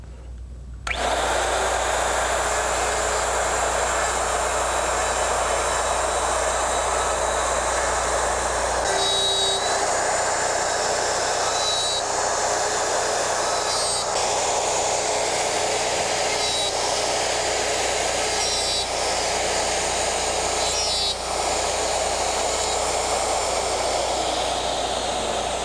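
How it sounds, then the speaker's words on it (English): A Porter Cable router cuts dovetail pins and tails in an Omnijig 5116 dovetail jig, a loud sustained high-pitched whine that starts abruptly and holds steady, with intermittent rougher cutting passes. "Make sure you place the router firmly and level on your finger template. Our first cut is going to be across the face of the pin board."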